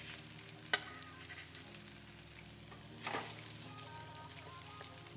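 Tilapia fish frying in a pan, a steady low sizzle and crackle throughout with a couple of sharper spatters and a stir or shift of the fish midway, no talking.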